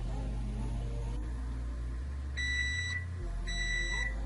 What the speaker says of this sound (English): our muffins are done by the timer